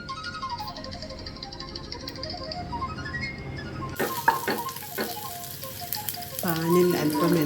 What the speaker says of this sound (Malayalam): പാനിൽ അല്പം എണ്ണയൊഴിച്ച് എണ്ണ ചൂടാകുമ്പോൾ വഴറ്റി വെച്ചിരിക്കുന്ന സവാള, ഇഞ്ചി, വെളുത്തുള്ളി എന്നിവയിട്ട് നന്നായി ഇളക്കുക